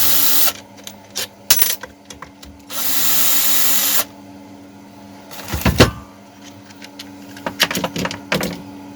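Short bursts of a power driver or drill backing screws out of a petrol brush cutter during disassembly, with one sustained whirring run and several brief zips, close and loud in a quiet workshop.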